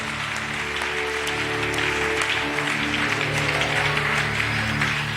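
A church congregation at a worship service applauds Jesus in a dense, sustained roar of clapping over low music, continuous from start to end.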